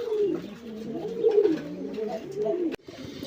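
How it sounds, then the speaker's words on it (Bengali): Local desi pigeons coo near and steadily in a soft, repeating burble, ending with a sharp click. "এখানে আরেক জোড়া কবুতর আছে"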